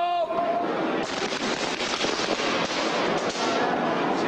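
A pyrotechnic charge tested for a stage show fires with a sudden loud burst, then crackles and sizzles as a dense, continuous shower of sparks for several seconds after a brief voice at the start.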